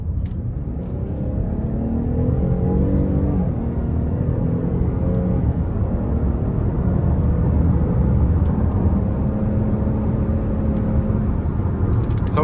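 Steady low engine drone and road rumble from inside a 2020 GMC Acadia Denali V6 driving in sport mode, continuous and fairly loud with rising and falling engine tones, no talking.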